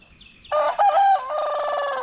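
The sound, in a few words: rooster crowing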